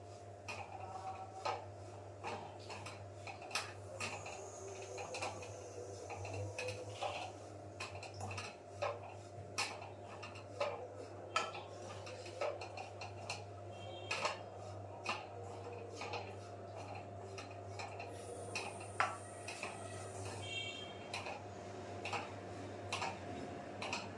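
Coconut being stirred in ghee in a pan while it lightly fries, a busy run of small clicks and scrapes of the spoon against the pan over a steady low hum, with no talk.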